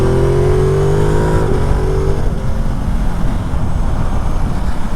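A 2021 Ducati Multistrada 950 S motorcycle ridden on the road toward Aldeburgh, Suffolk, gives a loud, steady engine drone with a falling pitch as it shifts, amid heavy wind rush.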